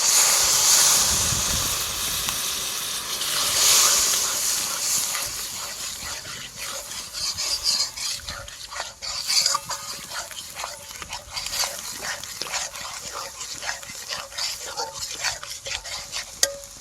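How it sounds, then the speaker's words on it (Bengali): A splash of water hits hot oil in a pan for a butter chicken dish, bursting into a loud close hiss that gradually settles into a softer sizzle with repeated stirring scrapes, no clear talking. "তেলটা হালকা ছেড়ে আসছে এর মধ্যে হালকা জল দিয়ে দেবো"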